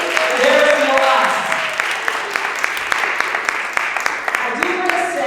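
An audience at a City of Paterson Employee Appreciation Day event applauds city employees, a dense round of clapping that thins to scattered claps, with voices over it at the start and end.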